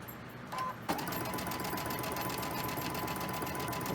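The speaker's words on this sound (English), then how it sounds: "I'm going to go ahead and I'm going to chain stitch them" A sewing machine chain stitches quilt pieces, starting after a short pause and then running with a fast, steady mechanical rattle, close and loud, with no talking.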